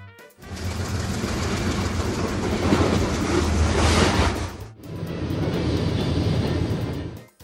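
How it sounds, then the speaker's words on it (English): Commuter train rushing past at close range, a loud, broad roar that builds and peaks, breaks off briefly, then resumes at a steady level before cutting out. "Commuter train."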